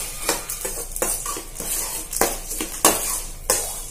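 Cumin and spices sizzle and fry in a pan while being stirred for a curry leaf powder. A spoon scrapes and taps the pan every half second or so over a steady background sizzle.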